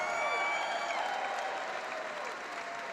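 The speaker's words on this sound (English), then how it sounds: "A big round of applause for both these fighters, please." Fight-night crowd at a professional boxing event clapping for both boxers after a three-round bout, a dense wash of applause that is loud at first and gradually fades over three seconds.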